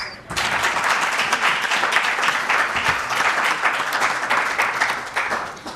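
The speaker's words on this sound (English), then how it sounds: "A round of applause." An audience at an evening public lecture on the ANC in power breaks into loud, sustained applause lasting several seconds, a dense, even wash of clapping close to the microphone that tapers slightly at the end.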